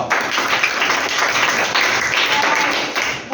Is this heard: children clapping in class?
yes